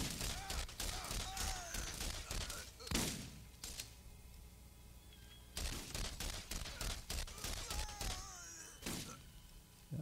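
Enemy shotgun blasts in the Borderlands game, heavy booming shots in repeated bursts amid chaotic combat noise, with a quieter lull in the middle before the firing resumes.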